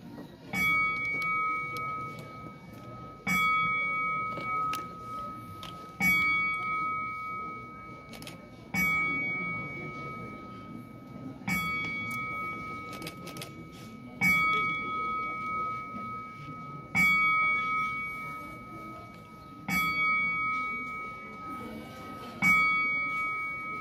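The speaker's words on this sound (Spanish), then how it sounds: "escucharemos las 12 campanadas" Twelve bell strikes ring out at steady intervals, each ringing and fading before the next, over a low murmur of background noise.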